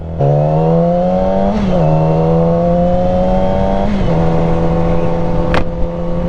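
Yamaha R6 sport motorcycle held at a steady high-revving engine whine while riding, with brief rev dips around shifts and constant wind roar, close and loud throughout.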